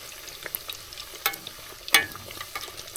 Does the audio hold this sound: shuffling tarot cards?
no